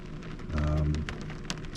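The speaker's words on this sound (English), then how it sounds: "4:30, it's raining" Rain falls steadily outside a truck during a winter weather advisory in western Iowa, a soft, even patter with a low rumble swelling briefly, heard close from inside the cab.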